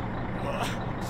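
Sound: truck engine revving to drive hydraulic pump, video game

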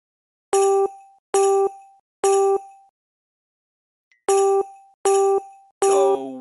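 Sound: Jingle Bells melody tapped out in Hey Duggee app game

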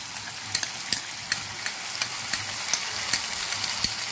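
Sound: ginger added to sizzling mushroom dal in pan

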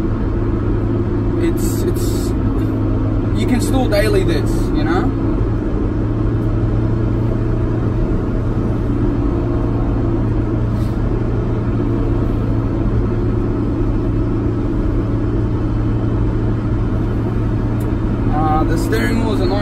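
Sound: Honda S2000 AP1 driving in sixth gear

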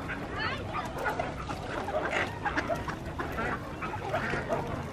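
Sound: ducks

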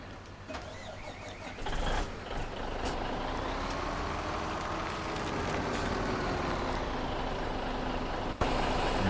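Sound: truck driving in the video game Farming Simulator 17

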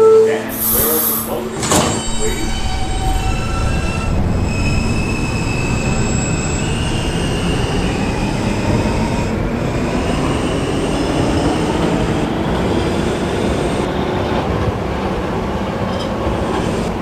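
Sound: R subway train running on the N line

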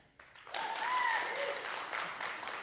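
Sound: audience applause, clapping at a live podcast recording

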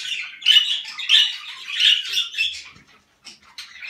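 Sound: Indian bulbul birds squawking

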